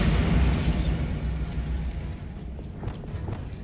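Bombarda blasting spell in the wizarding game Hogwarts Legacy, a deep rumbling explosion that bursts loudly at the start and then slowly decays into a lingering low rumble with faint debris crackles.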